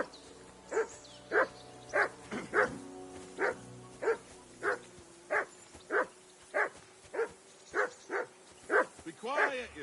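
Dog barking in the medieval video game Kingdom Come Deliverance 2, a dozen loud, evenly spaced barks close by, ending in a rougher flurry.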